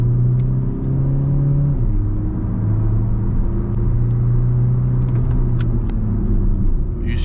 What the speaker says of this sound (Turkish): 3... 2, 1 biraz patinajla kalktık.